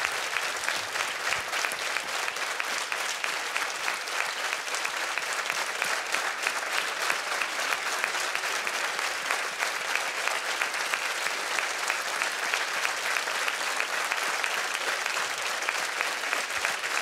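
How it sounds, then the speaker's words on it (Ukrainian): A dense, loud wall of audience applause fills a televised dance show studio as a tribute to a late maestro, steady rapid clapping from a large crowd sustained without pause throughout. "Хвилина оплесків для великого маестро."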